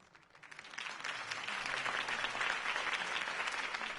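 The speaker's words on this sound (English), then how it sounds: "If only Mr. Wayne, my campaign's largest backer, could have heard that applause" Crowd applause after a campaign speech in Batman: The Telltale Series swells quickly from a few scattered claps into a full, roaring ovation that holds steady.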